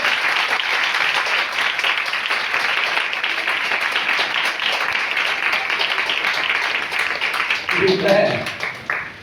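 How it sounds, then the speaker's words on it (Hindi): A church congregation at a Sunday service claps in praise, a loud, dense wash of applause from many hands sustained for several seconds, with a voice speaking briefly near the end. "एक बार ताली बजाकर प्रभु की स्तुति करें।"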